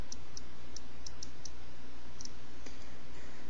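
Light, crisp taps on an iPod Touch on-screen keyboard come in an irregular typing rhythm, close and clear over a steady background hiss.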